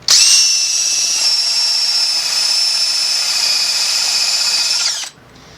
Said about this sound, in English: This is my 5/8 inch bit.